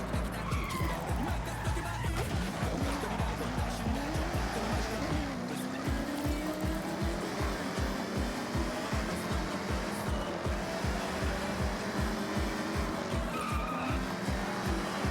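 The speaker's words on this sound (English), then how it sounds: "I can hear that Challenger's engine swapped." Loud, continuous racing engine of an engine-swapped Challenger in a racing video game, revving hard with rhythmic pulsing and squealing tyres throughout, a faint voice underneath.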